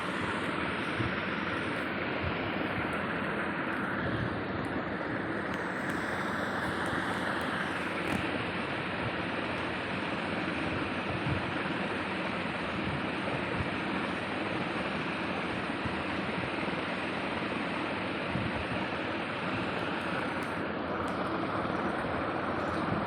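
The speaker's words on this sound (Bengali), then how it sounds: "চিকেনটা দেওয়া হয়ে গেছে, এবার নাড়াচাড়া করব" Chicken being stirred and fried in a pan gives a long, steady, even frying hiss, with faint stirring noises and no voices throughout.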